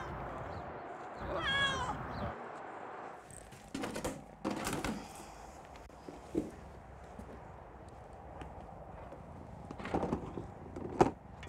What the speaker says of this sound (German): So, das hier ist unser Max, unser neuer Kater.